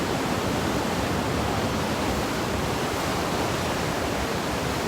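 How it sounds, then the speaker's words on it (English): Ocean waves crash in a continuous, loud, broadband wash of surf, with no clear breaks between breakers and no voices. "These waves are terrifying."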